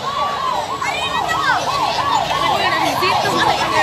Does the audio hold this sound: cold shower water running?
no